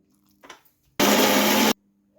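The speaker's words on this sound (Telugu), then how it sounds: "కొంచెం మిక్సీ జార్లో వేసుకొని మిక్సీ పట్టుకోవాలి." A mixer grinder whirs through ripe red chillies and garlic for a pickle, one loud burst of under a second that starts and stops abruptly, with quiet around it and no talking.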